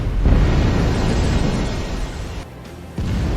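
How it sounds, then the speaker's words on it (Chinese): A 76 mm naval gun fires a warning shot at a salvage boat at sea, a loud sustained boom with heavy low rumble, briefly dropping off before the blast noise returns. "警告射击，前面的打捞船听着，立刻停船熄火"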